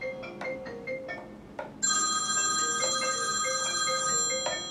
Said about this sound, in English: I think that's the yellow pages ringing about my advert